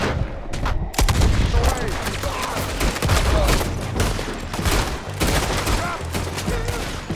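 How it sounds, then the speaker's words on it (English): Rapid gunfire during a shootout in Red Dead Redemption 2, dense bursts of shots and booms crackling continuously over a tense scene, with shouted voices mixed in. "Shoot the bastard!"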